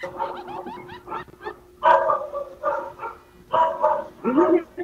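A dog gives a run of short yips and barks at close range, mixed in with nearby people talking.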